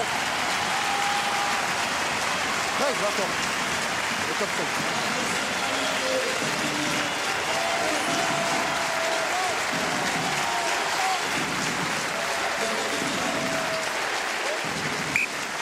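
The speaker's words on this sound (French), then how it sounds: "la sortie du capitaine Thierry Dussautoir sous les applaudissements d'Ernest Vallon" At Stade Ernest-Wallon, a rugby stadium crowd applauds Stade Toulousain captain Thierry Dusautoir as he leaves the field, a dense sustained roar of clapping with commentators talking over it throughout.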